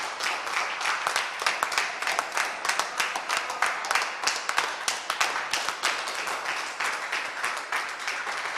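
Steady, fairly loud hand clapping from a group at a science centre, meant to light up a clap-activated tree, with rapid repeated claps continuing for several seconds in a reverberant space.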